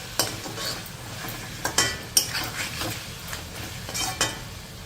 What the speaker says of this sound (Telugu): ఇంకొక 4-5 నిమిషాలు ఈ చికెన్ని మనం మంచి కలర్ వచ్చే వరకు ఫ్రై చేసేసుకోవాలి